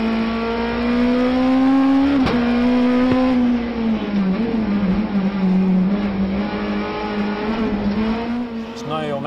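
A rally race car with a 1.6-litre naturally aspirated engine powers through a chicane, its loud, close engine note holding high revs, dipping and rising with gear and throttle changes, with brief mechanical clicks.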